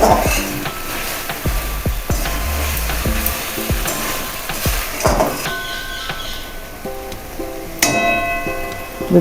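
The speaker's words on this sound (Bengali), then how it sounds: "এটা এরকম করে নেড়ে চেড়ে একটু ঢেকে দেবো অল্প জল দিয়ে।" Tangra catfish stirring and sizzling in a pan, with steady frying hiss, scraping of a spatula and occasional clinks of utensils against the metal, close and continuous.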